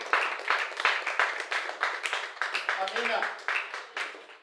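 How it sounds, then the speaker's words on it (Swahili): A church congregation claps together in steady rhythmic bursts about twice a second, the clapping carrying on under a voice speaking. "Tumpe Bwana sadaka ya makofi kwa jina la Yesu."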